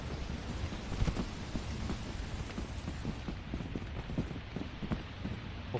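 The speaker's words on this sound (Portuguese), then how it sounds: "Só tem chuva." Steady rain in the video game Lethal Company, a dense continuous patter with scattered sharper drops throughout, moderately quiet and with no voices.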